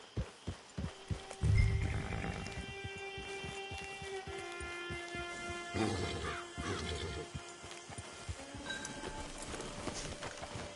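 Horse hooves clip-clop in Red Dead Redemption 2, a run of distinct thumping steps in the opening seconds, then softer movement beneath sustained musical tones from the game, with no speech.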